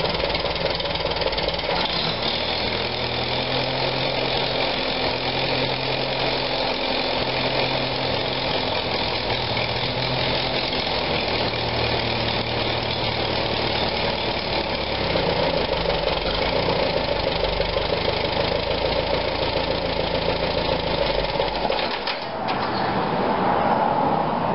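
A 1945 Farmall BN tractor engine idles steadily, a continuous low mechanical rumble with a slight uneven knock, holding level for over twenty seconds before a brief clunk near the end.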